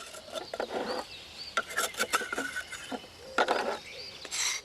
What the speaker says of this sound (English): Joseph Meyerhofer scrapes together the dried resin from the wound's surface